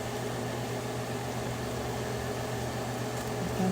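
Sardines frying in a hot pan of oil for egg sauce give off a steady, even hiss and sizzle, close and continuous, with no talk over it.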